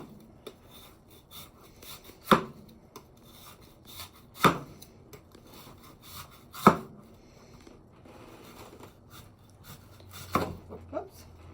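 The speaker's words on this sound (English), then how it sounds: "So I'm going to slice the watermelon up quickly." A knife cuts through a juicy watermelon on a cutting board set on a towel, giving four sharp, well-spaced chopping thuds against a low, soft background.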